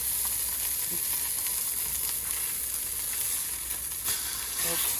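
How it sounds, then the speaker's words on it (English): Steady, loud sizzling and crackling of bologna and eggs frying in a hot pan, continuous throughout with faint occasional pops. "frying some bologna and some eggs"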